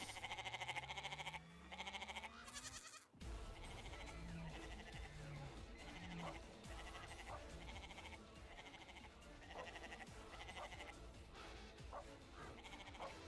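Goats in a video game bleat loudly and repeatedly over a busy game soundtrack, with sharp repeated calls after a brief cut early on.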